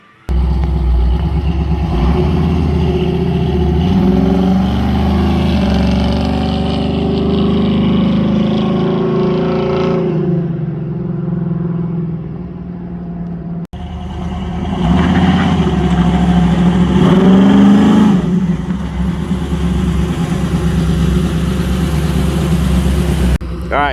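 A Chevrolet Nova's engine runs loud and close on a test drive, holding a steady drone, then revving up harder partway through.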